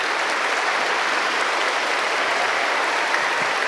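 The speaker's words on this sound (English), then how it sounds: "We can clap for her." A school poetry slam audience claps for a judge in steady, dense applause that fills the hall from start to finish, with no voices standing out.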